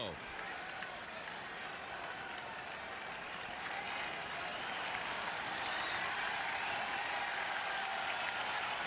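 A baseball crowd at Fenway Park, with the Red Sox hosting the Rangers, keeps up a steady, distant roar of applause and cheering under a commentator's voice.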